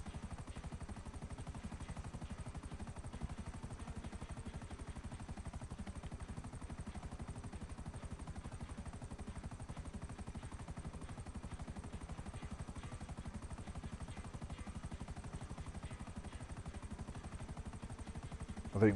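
Helicopter in the video game GTA 5, a steady low rotor thrum and engine drone held at constant loudness throughout, with faint clattering layered on top and no talk.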